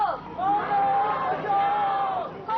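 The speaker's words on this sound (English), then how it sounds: "This crowd that you see here, historically, this is about the biggest size we've ever had at a World Bank IMF demonstration" A large crowd at a World Bank and IMF protest demonstration in Washington makes a dense, steady hubbub of many voices close by, with a sustained high tone held over the noise for a couple of seconds.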